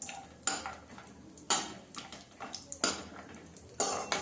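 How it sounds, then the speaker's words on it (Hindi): Cashews and almonds roasting in a pan over low-medium heat, with sharp clinks of a spoon or spatula against the metal as the nuts are stirred, several distinct scraping knocks over a few seconds, close and fairly quiet. "अब इसे हम लो मीडियम पे 2 से 3 मिनट तक भून लेते हैं"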